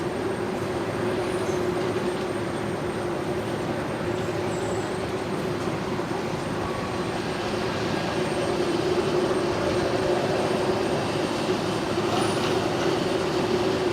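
An aircraft taxiing at Brisbane Airport at night produces a steady, continuous engine roar and hum at moderate distance, unchanging throughout with no voices.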